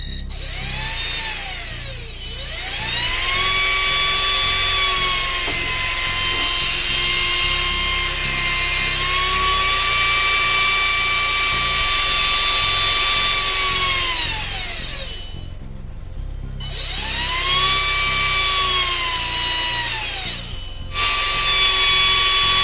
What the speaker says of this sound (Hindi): आ जाते हैं तीसरी वाली मोटर की तरफ, जो कि थोड़ी बड़ी है और ये है हमारी 550 मोटर।